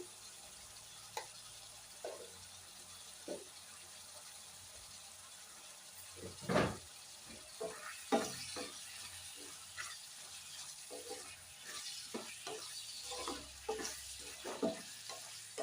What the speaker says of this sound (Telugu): ఈ అల్లం వెల్లుల్లి పేస్ట్ పచ్చివాసన పోయే వరకు వేగనివ్వాలి.